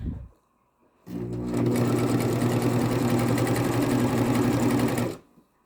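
A sewing machine stitches a seam in one continuous loud, rapid mechanical run of about four seconds, starting and stopping cleanly from near silence.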